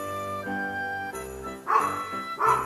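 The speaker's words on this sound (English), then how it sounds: "Stinking next door neighbor dog." A next-door neighbour's dog barking, with two or three distinct barks standing out over a background of steady tonal music or hum, moderately close.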